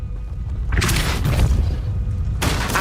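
In the Hogwarts Legacy video game, a Depulso spell is cast, releasing a heavy, booming force blast. The blast swells sharply, rumbles loudly at close range, then cuts off abruptly.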